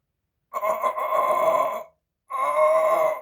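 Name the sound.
vocal imitation of whisper scream noise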